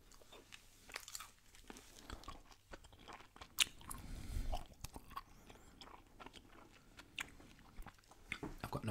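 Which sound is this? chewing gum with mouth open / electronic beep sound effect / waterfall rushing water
chewing gum with mouth open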